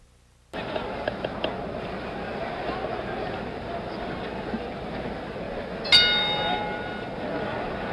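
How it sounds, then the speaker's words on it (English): A single ringside bell strikes to open round 7 of a 1977 heavyweight boxing bout, a bright clang with a short ringing decay heard over steady arena crowd noise and commentary. "The bell for round 7."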